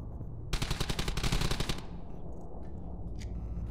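A machine gun in Brothers in Arms: Hell's Highway fires one loud, rapid burst of closely spaced shots lasting about a second, then the noise fades into a quieter battlefield ambience.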